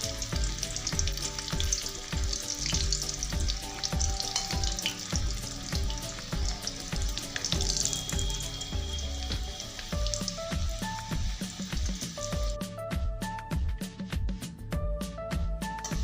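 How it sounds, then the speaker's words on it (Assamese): Potatoes frying in oil for dum aloo, a dense, busy crackle of popping oil heard up close that stays steady for the whole stretch, with sharper, sparser spatters near the end. "অলপ ৰঙা ৰঙাকৈ ফ্ৰাই কৰি ল'ব"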